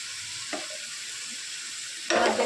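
Onion, ginger, garlic, tomato and green chilli sauté with turmeric in a pan, a continuous close sizzle broken by a short stir, then a louder burst of frying near the end.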